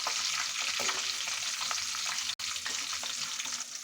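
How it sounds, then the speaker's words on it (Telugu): Green chillies, curry leaves and onion fry in hot oil for an okra fry dish, giving a steady close sizzle with faint stirring clicks and one brief dropout, no voices. "ఆయిల్ మంచిగా ఫ్రై చేసుకోవాలి"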